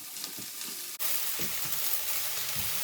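Red cabbage and Heura plant-based pieces frying in a pan, a steady loud sizzle with the scrape and knock of stirring, a sharp jump in the hiss partway through, no talking.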